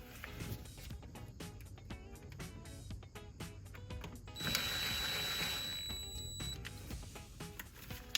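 A screw is loosened on a 1984–87 Buick turbo car, heard as a quiet close run of fine ratcheting clicks and small mechanical taps, with a brief steadier whirring noise partway through.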